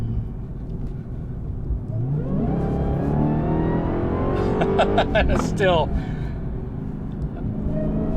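A 2021 Dodge Charger SRT Hellcat Redeye Widebody in track mode, its V8 droning and then rising through quick upshifts while the car accelerates, heard steadily from inside under continuous talking.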